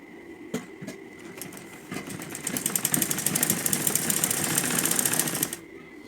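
A sewing machine stitches a blouse neckline after the fabric is folded outward: a few single clicks, then a steady fast mechanical whirring run that builds and holds for about three seconds before stopping abruptly.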